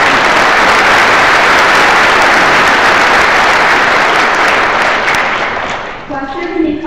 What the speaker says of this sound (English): That deserves an applause right here.